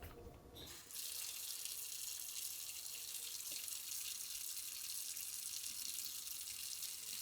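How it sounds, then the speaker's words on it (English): A kitchen sink tap runs steadily for hand washing before handling raw salmon, a continuous close hiss of water that starts after a brief rustle. "So before I touch the fish, washing my hands. We go to the sink."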